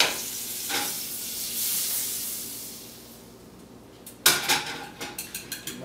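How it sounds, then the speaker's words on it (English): Eggs sizzle steadily in a hot pan, the frying hiss swelling and fading, then a spatula stirs them with a run of sharp scraping and clinking knocks against the pan near the end. "Give my eggs a quick stir so they get coherent and all that good stuff"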